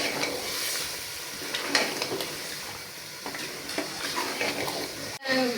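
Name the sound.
chicken frying in a pot for biryani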